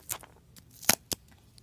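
Scissors snip through a strip of duct tape, giving a few sharp, close clicks and crisp cuts spread over a quiet moment with no speech.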